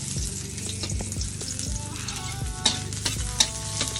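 Leftover rice and onion sauté in a hot oiled pan, a continuous crackling sizzle with repeated scraping stirs of a utensil, close and steady without talking.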